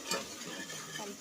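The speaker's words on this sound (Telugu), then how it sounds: "నేనైతే ఆయిల్ వేసుకొని అందులో ఆనియన్స్ వేసేసి మిక్స్ చేసేస్తున్నాను" Onions are stirred into hot oil in a pan for beetroot curry, giving a soft continuous sizzle with scraping stirs and a light clink of the utensil near the start, close and fairly quiet with no talk.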